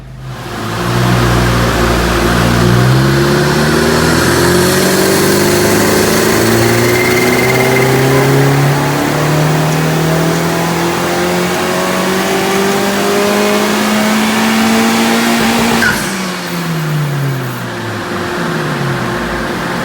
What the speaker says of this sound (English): we have done 4 dyno runs on the Hondata ECU Flash for 91 octane, downpipe, and throttle response